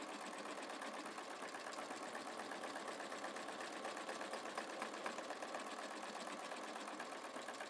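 A sewing machine runs steadily throughout, its fast even stitching rhythm holding close and moderately loud, used for wing needle work, with no voices over it.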